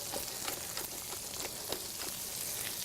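Lamb meatballs seasoned with cracked black pepper sizzle in a pan, a dense, steady frying hiss with small pops and crackles throughout, close and fairly loud, with no voices.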